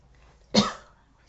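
A single short, muffled cough bursts out once, close and fairly soft, like a cough held back, then fades into quiet.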